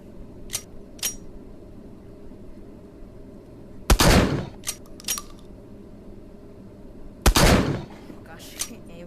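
Shotguns fire at a shooting range in a VR video game on a Quest 2, two loud booming shots a few seconds apart, with lighter clicks and handling sounds in between.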